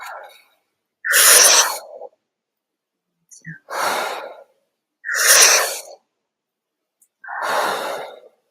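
Forceful breaths during a guided breathing exercise, four strong airy bursts about two seconds apart, near and loud, separated by near silence.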